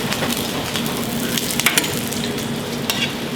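Pieces of chicken fry in a crowded pan with a steady, dense sizzle and crackle that stays close and even throughout, with small popping spikes and no talk.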